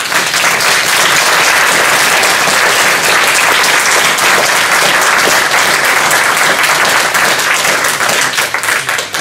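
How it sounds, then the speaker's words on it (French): A theatre audience gives a sustained, loud round of applause for amateur actors after a theatre workshop performance. The dense, even clapping runs steadily for about nine seconds and thins slightly at the very end. "Donc je vous demande de les applaudir une nouvelle fois."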